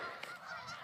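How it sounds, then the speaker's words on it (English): A huge flock of birds gathers by partly frozen ice, their honking calls overlapping into a dense, continuous chorus at moderate distance. "That's a lot of freaking birds."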